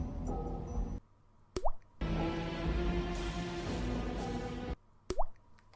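Synthesised water drop music: soft plopping, dripping electronic tones in short phrases broken by brief silences and quick pitched drip accents.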